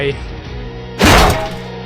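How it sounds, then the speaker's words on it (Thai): A fist punches through a door as a sound effect: one heavy, sudden crashing thud cuts in partway through, loud and close, over a low droning music bed. "ก็มีมือชกทะลุประตูวิติออกมา"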